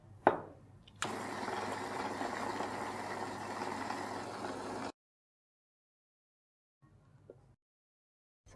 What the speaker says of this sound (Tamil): இதோட வந்து பனை வெல்லம் சேர்த்து நம்ம இதை அரைச்சி எடுத்துடலாம்.